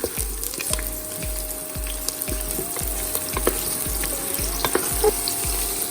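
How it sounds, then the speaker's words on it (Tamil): Curry leaves and small shallots sizzle as they temper in hot oil, a bright steady crackle close up, with a regular series of soft thumps as the pan is stirred. "கருவேப்பிலை பொரிஞ்சிருச்சு. இப்போ வந்து சின்ன வெங்காயம். இப்போ வந்து இதை நல்லா தாளிச்சு விட்டுறலாம்."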